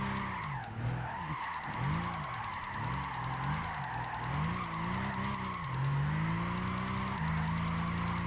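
A Nissan GT-R drifting in Gran Turismo 5, with continuous tire squeal wavering in pitch over a steady engine drone for the whole stretch, loud and up close with no talking.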